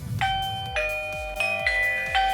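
A video doorbell's own built-in chime rings out loudly, a series of bright repeated ding tones with sustained ringing overtones, struck several times in quick succession with no talking.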